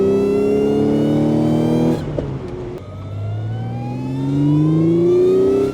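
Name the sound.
supercharged Audi V6 engine revving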